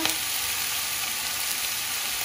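Meat browns in a hot pan for a colombo stew, giving a loud, dense, continuous sizzle throughout with no voice over it.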